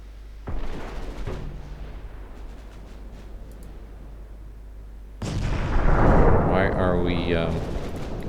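Warship guns fire high-explosive shells in the naval battle game Ultimate Admiral Dreadnoughts, a sharp blast and then a heavier booming salvo that rolls on, with a voice speaking over the gunfire.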